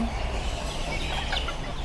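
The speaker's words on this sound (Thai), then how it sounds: "อันนี้เป็นไก่แจ้นะคะ" Bantam chickens clucking at a poultry market in Ban Pong, Ratchaburi, a steady close run of clucks and soft calls over busy market background noise.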